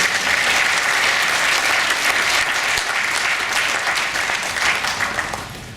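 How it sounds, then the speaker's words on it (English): A large audience applauds an award recipient at a Jamaican gathering, a loud, sustained wash of clapping throughout that eases slightly near the end. "So let's give him a round of applause."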